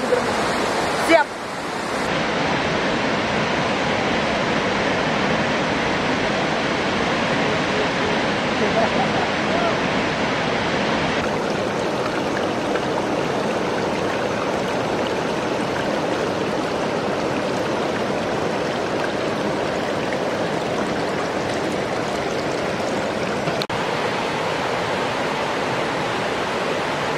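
The Curug Seribu waterfall roars as a loud, dense and unbroken rush of falling water, filling the whole stretch at close range.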